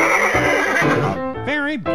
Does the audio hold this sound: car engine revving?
no